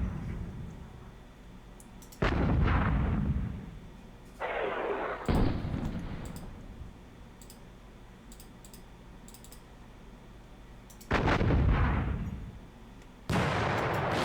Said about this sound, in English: We will be firing some of the artillery though.